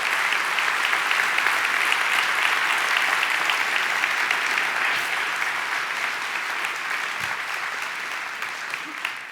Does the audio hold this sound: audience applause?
yes